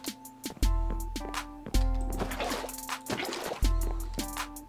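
Water splashes and gurgles in short bursts as a bucket is filled in Minecraft Sky Factory 3, three distinct liquid sounds over a steady game hum.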